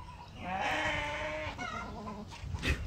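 Sirohi goats at a goat farm let out a loud, drawn-out bleat followed by a second shorter call, close by with faint farm background and no talk.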